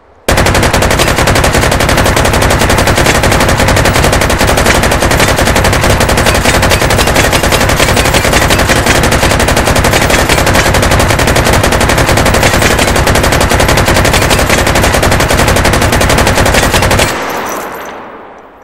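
Rapid automatic gunfire rings out in the VR shooting game H3VR as one loud, unbroken burst lasting about seventeen seconds before it stops abruptly.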